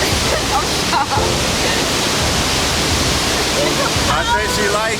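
A waterfall pours in a loud, constant, close rush of falling water, and voices speak faintly beneath the roar.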